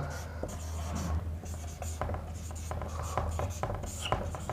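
Scratchy strokes of writing on a classroom board during a Hindi literature lecture, coming in short irregular bursts over a steady low hum and faint room noise.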